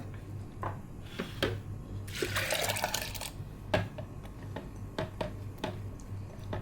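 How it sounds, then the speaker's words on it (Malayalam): Soaked millet, urad dal and fenugreek are poured with their soaking water into a wet grinder, making a short splashing gush amid light clicks and taps of the container. "ഞാൻ ഈ ഒരു വെള്ളത്തോടു കൂടി തന്നെ ഒഴിച്ചു കൊടുക്കുന്നത്"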